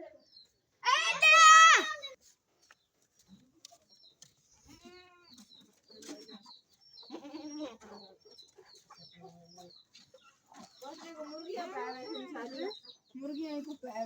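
Chickens cluck in short, scattered bursts while someone speaks nearby, the bird calls faint and intermittent between and beneath the talking.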